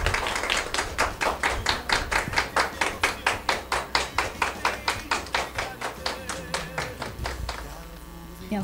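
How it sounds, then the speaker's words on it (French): An audience at a French-language evening talk welcomes a sociology professor with steady rhythmic applause, crisp claps landing in an even beat. The clapping rolls on for several seconds, then softens and stops at the end. "Sous vos applaudissements."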